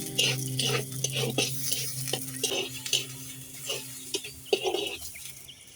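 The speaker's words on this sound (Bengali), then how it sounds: "পেঁয়াজটা একটু ভেজে নেব।" Chopped onion frying in hot oil in a wok, a soft sizzle under repeated scraping and clinking strokes of a utensil against the pan, fairly quiet and close, with no talking.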